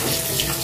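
Tap water runs steadily into a sink while clothes are washed, a close, continuous rushing splash with no talk.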